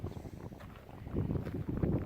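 Mountain wind at about 2000 m altitude buffets the microphone in uneven, rumbling gusts that rise and fall, growing stronger toward the end.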